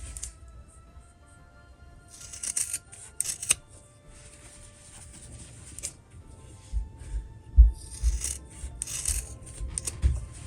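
Scissors snip and trim excess fabric around a sewn holiday bow piece, scattered short crisp cuts with rustling fabric handling and light bumps between, close and quiet.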